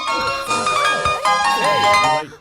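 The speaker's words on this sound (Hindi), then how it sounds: "फोन का साउंड थोड़ा कम नहीं कर सकते हो?" A bright electronic phone ringtone plays a melodic tune, loud and continuous, with sliding tonal notes over the ringing.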